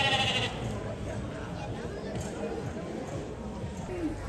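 Sheep bleat in a livestock pen at the Three Counties agricultural show, their calls mixed into the busy crowd chatter and nearby voices talking.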